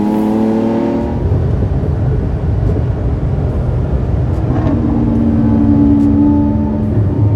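A Lamborghini SVJ and a Porsche GT2RS roll racing, with loud close engine roar and rising, shifting revs that sound continuous and strong for several seconds.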